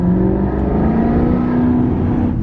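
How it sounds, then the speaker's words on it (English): A flood-damaged exotic GT car bought from a salvage auction revs its engine nearby, a loud steady drone with a rising and falling pitch under acceleration, heard without talk. "Any Gran Turismo, I think is, golly, that sounds good"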